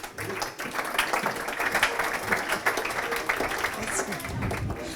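An audience at an awards ceremony applauds as a presenter, founder of a news service, is called to the stage; steady dense clapping fills the room at moderate volume, with talk over it.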